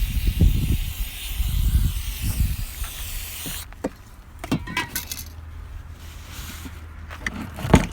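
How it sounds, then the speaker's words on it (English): An aerosol can of carburetor cleaner hisses in short bursts of spray onto a Chinese scooter carburetor, mixed with metallic clinks and handling noises close by. "So spray the carb clean."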